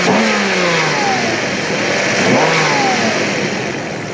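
A hot Mercedes M120 V12 engine from a 1996 to 2001 model is revved during a throttle body test, giving a dense, loud mechanical roar with a few quick rising and falling revs, close by.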